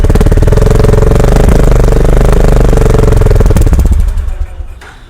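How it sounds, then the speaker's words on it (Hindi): A Honda CB 350 motorcycle engine revs loudly and close up with a throbbing, pulsing exhaust for about four seconds, then drops back toward idle as the roar fades. "और अब मैं इसको रेव कर लेता हूँ।"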